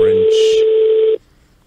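A telephone rings during a call on a podcast, a loud, steady electronic tone held for about a second before cutting off into quiet line noise.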